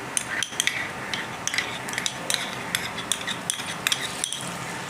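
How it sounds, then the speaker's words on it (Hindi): Ginger and garlic paste fries with onions in a pan over a medium-high flame while making egg biryani. A steady sizzle runs throughout, broken by frequent sharp clicks and scrapes of a utensil stirring against the pan. "अब मैं इसके अंदर 1 चम्मच अदरक और 1 चम्मच लहसुन का पेस्ट डालूंगी।"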